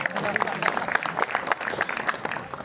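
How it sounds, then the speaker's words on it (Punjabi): Crowd at a village political gathering clapping hands, a short burst of brisk, uneven applause, with talk over it. "ਹੱਥ ਤਾੜੀ ਮਾਰ ਦਿਓ"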